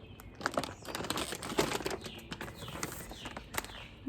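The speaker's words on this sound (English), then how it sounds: "This bag is really loud, so I'll try not to talk when I crinkle it." Large bag of wild bird seed crinkled and rustled in a run of crisp, irregular bursts close up, with no talking.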